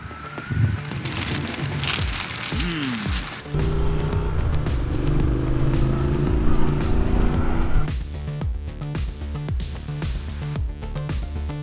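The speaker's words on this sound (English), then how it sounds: "So this is basically my first real motorcycle adventure" A motorcycle carries two riders on the road, its engine revving up and down through gears with rising and falling tones over steady wind and road noise, loud and close.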